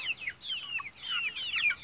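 Young blue Brahma chickens, hens or roosters, give soft, high chirping clucks in quick uneven bursts, close by and fairly faint.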